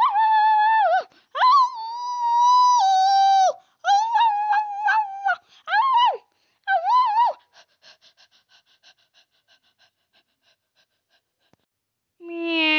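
A child's high, whiny voice imitates a dog barking in a rapid run of woofs, then trails into soft breathy sounds, with a brief voiced note at the end.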